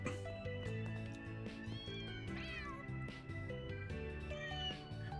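Cats meowing inside the video game Trails through Daybreak 2, several short mews rising over steady background music that plays throughout.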